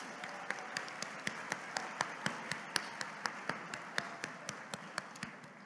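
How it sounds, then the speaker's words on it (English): Audience at an award dinner applauding together, a dense wash of clapping with sharper individual claps standing out in a steady rhythm, fairly distant and moderately loud throughout. "Let's have a round of applause for all of the people who celebrated tonight with DEI spotlights."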